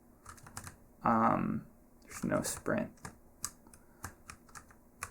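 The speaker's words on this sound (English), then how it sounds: "you can hear my keyboard and mouse sounds" Keyboard keys and mouse buttons click while someone plays a computer game, with sparse light taps scattered throughout and a short burst of speech partway through.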